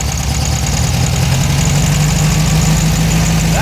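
A car engine idles rough and uneven before repair, a steady close rumble with a pulsing low throb running throughout, with no voices.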